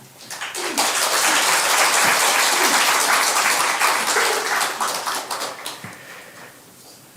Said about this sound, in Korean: 목사님 나오실 때 우리 환영의 박수로 맞이하시겠습니다